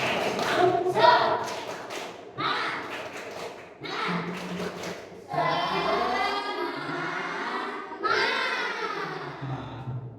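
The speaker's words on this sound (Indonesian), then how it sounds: "Tepuk semangat." Schoolchildren standing in a classroom doing a rhythmic spirit clap, quick bursts of hand claps in a patterned beat alternating with loud chanted group voices.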